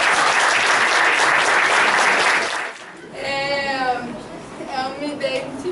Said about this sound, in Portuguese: Uma salva de palmas para a Daniela